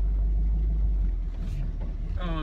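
Truck engine rumbling low and steady after being put in gear, a continuous heavy drone with a brief tonal whine near the end, close and loud.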